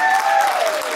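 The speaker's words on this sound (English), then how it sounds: "Prairie View, please give me a round of applause" Brief burst of audience applause at a Black Excellence speaking event, dense clapping with a high whistle or shout over it, cut short after about a second.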